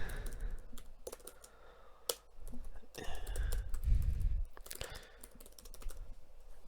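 Typing on a computer keyboard, close and fairly quiet, irregular clusters of clicks and key taps with a low rumble partway through.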